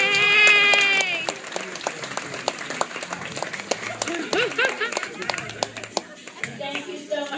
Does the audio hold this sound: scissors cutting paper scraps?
no